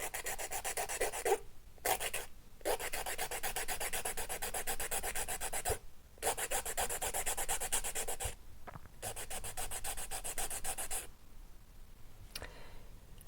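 A nail file rasps back and forth across a gel nail extension while shaping it square, continuous close strokes with a few brief pauses and a softer stretch near the end.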